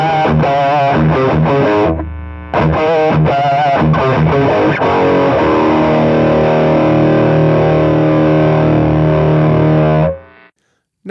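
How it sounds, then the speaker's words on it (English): An electric guitar played through a Soldano SLO overdrive pedal with its fat switch engaged, thick distorted chugging riffs and then a long ringing chord, loud and close, with a short break partway through. "And the new SLO pedal has a fat switch on the side."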